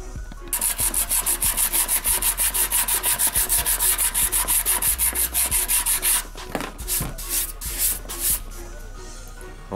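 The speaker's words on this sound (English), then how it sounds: "I'm finishing up on my sanding now." Rapid, rhythmic back-and-forth sanding strokes rasp against fiberglass filler on a dented motorcycle gas tank for several seconds, then slow into a few separate scrubbing passes.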